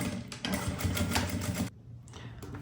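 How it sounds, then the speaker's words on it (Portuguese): A sewing machine stitches a zipper while making a bag kit, running in a fast, dense rattling burst, pausing briefly, then whirring again at close range. "Costurei e cortei o excesso de zíper."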